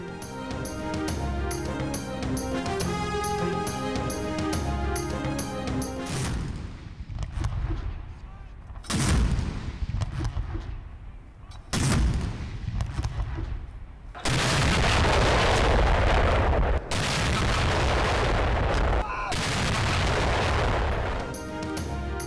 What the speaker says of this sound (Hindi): ईद मिलादुन्नबी सल्लल्लाहु अलैहि वसल्लम पर इस्लामाबाद में 31 और सूबाई दारुल हुकूमतों में 21 तोपों की सलामी।